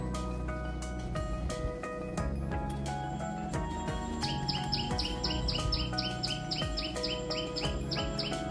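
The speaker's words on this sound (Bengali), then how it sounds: "কোনো পাখি দেখতে পাই, আবার কোনো পাখির আওয়াজ শুনতে পাই।" Birds calling in a garden in Kolkata: repeated bright chirps and tweets, with a quick rhythmic run of calls in the later part, over a steady, dense background.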